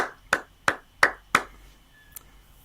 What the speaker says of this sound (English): Thank you for that golf clap and that sarcastic clap.